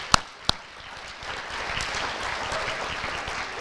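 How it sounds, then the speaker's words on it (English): Audience applause at an FFA banquet, a steady round of clapping from a crowd that swells after a couple of sharp claps at the start and carries on evenly to the end. "Can we please give her a round of applause?"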